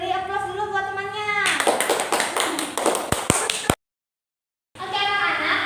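A classroom of students clapping in applause for a classmate, a burst of scattered, quick hand claps following a teacher's spoken prompt and ending with a few sharp final claps, then silence and more speech.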